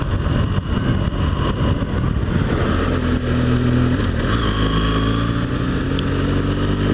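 A BMW R1200 GS motorcycle riding along the coastal road of the Lands End loop: a continuous, loud engine drone with wind rumble, steady throughout with slight shifts in pitch.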